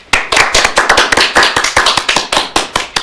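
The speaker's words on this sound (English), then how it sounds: "So if you'll please welcome with a kind round of applause right now, Mr. Scott Brown." A Toastmasters meeting audience in Fort Wayne claps for about three seconds, a close, dense patter of individual hand claps that starts abruptly, with no voices over it.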